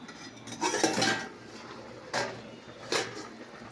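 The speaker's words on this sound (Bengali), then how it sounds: "আর দেখো বাসন ধুচ্ছে" Dishes being washed outside a home kitchen: a few clattering bursts of pots and cutlery knocking together, spaced apart over a faint steady background hum.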